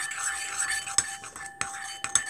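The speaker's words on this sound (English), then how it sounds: "get my spoon, mix it in." A spoon stirring clear slime in a bowl, giving soft wet swishes with a few sharp metallic clinks against the container, close and fairly quiet.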